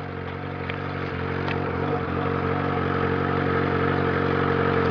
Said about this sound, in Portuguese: Então, rapaziada, o barulho da moto é infernal.